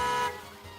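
A human voice imitates a car horn with one short, loud, buzzy honk that cuts off after about a third of a second and leaves a faint tail.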